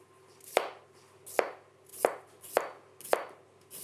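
A knife slicing a fork-scored hothouse cucumber on a cutting board, with six crisp, evenly spaced chops close by and no talking.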